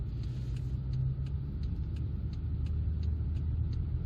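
A 1997 Volvo 940 Estate with a 2.3 LPT engine and automatic gearbox drives along, heard as a steady low engine and road rumble from inside the cabin with faint ticking above it and no talk.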